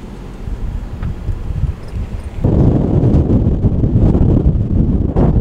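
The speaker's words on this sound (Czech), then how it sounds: "je tady takový vítr, že si nejsem úplně jistý, jestli ten mikrofon to bude stíhat" Strong wind buffets the microphone in the centre of the small town of Tekapo, New Zealand, a loud, continuous low roar that grows heavier and more constant about halfway through, with no talk.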